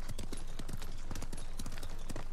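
Horse hooves clip-clop in steady rhythmic beats in Ghost of Tsushima, a brisk even gait of soft, close thuds continuing throughout without talk.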